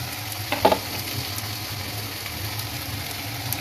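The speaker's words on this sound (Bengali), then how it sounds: "গোটা রসুন আর গোটা কাঁচা লঙ্কাটা দিয়ে একটুখানি ভাজবো" Whole garlic cloves and whole green chillies fry in hot oil in a pan, a steady close sizzle with a brief louder crackle and stirring clink near the start, no talking.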